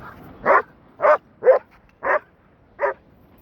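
A dog barks on a beach, five separate short barks spaced about half a second apart, close and clear over quiet background.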